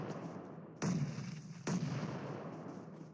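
Grenade explosions in an esports video game: two sharp, loud blasts about a second apart, each with a short rumbling tail over a steady background of game noise.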